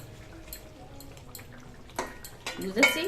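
A lid clatters onto a pot of simmering chicken curry with a few metallic knocks, faint at first and then a louder clank near the end, while a person talks in the background.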